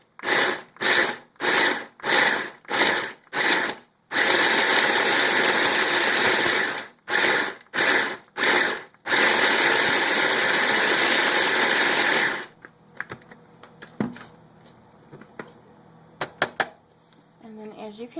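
Small kitchen appliance chopping old homemade soap into chunks, loud motor noise in several short pulses and then a long continuous run, close up, followed by quieter clattering and handling sounds.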